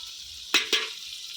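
Homemade garam masala spice mix hitting hot oil in a pan on a clay stove and being stirred in, two sharp sizzling bursts in quick succession over a low, steady frying hiss.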